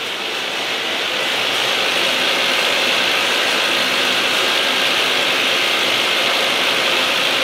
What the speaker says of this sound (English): There's your carriage. Of course, it's the variable speed on the carriage.